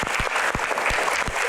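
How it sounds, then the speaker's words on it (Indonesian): Steady, dense audience applause at an Indonesian event with badminton figure Taufik Hidayat, a full crowd clapping continuously with some louder individual claps standing out. "tepuk tangan untuk box podium."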